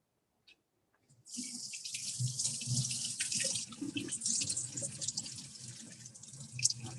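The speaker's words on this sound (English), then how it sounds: "We'll just rinse this quickly over here." Raw prawns are rinsed under a running kitchen tap, water gushing on abruptly after a second of near silence, then splashing steadily and close with shifting spatter as the prawns are handled.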